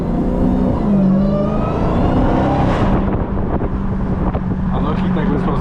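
A Dodge Hellcat Jailbreak is driven at night with a loud, rising supercharger whine over engine drone and wind buffeting, while people talk inside the car.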